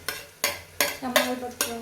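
Rhythmic stirring scrapes in a hot pan, five quick strokes over a soft sizzle of onion and tomato frying with spices.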